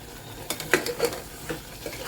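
Meat with coriander powder and turmeric is stirred in a pan, giving a soft sizzle under a few quick scraping and tapping strokes, close and brief.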